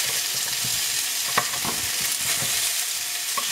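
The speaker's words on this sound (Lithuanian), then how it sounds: "Šparagai irgi labai kepa skaniai." Asparagus fries in a pan beside fish and mushrooms during a grilled sea bass dinner, giving a continuous close hiss with soft stirring scrapes and a few brief clicks.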